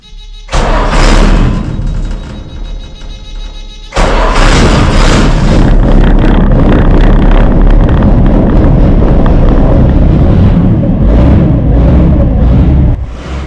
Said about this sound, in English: So I just kind of held the starter on for 2 fires.